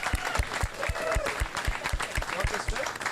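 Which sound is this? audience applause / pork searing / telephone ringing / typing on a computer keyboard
audience applause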